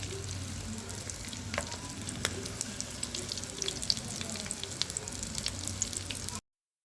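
Samosa rolls fry in oil on a tawa with a soft, even bubbling sizzle and scattered small crackles, fairly quiet and continuous until it cuts off abruptly.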